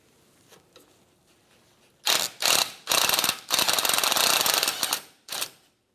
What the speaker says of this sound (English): We're going to loosen up this nut, remove this line. I'm going to do that with a 10mm socket.